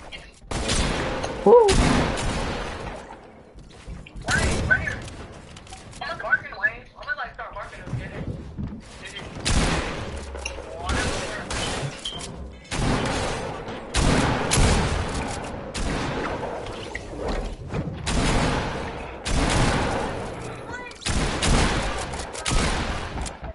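Video-game gunfire rings out in repeated loud bursts and single shots throughout, with voices talking over the shooting.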